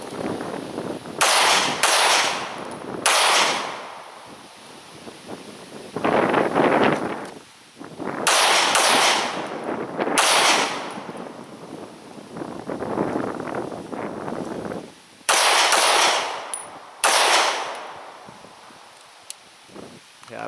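A Browning High-Power 9mm P-35 pistol fires several sharp, loud shots outdoors, spaced a second or two apart, with wind and rustling noise between them.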